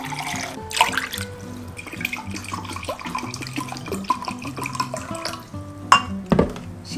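Water splashes and gurgles from a tap as 600 ml is measured out for a yellow pickled radish brine, with light clinks of a pot or container and a few small drips in a kitchen.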